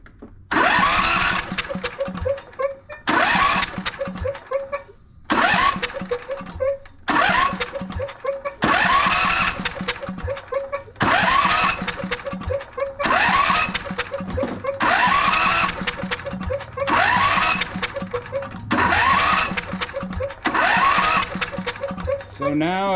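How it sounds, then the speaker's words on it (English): Riding lawn mower engine cranking over with the key in repeated short bursts, each start attempt a loud rhythmic churn of the starter motor, about nine bumps separated by brief pauses, close up. "every time I bump that key, that engine turns over perfectly fine."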